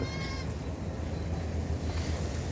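A goat gives a short bleat at the start, over loud, rumbling outdoor noise that continues throughout.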